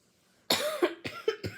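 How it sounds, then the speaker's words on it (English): One person gives a sharp, close cough after a moment of near silence, followed by a few shorter rough coughs in quick succession. "Pardon the cough."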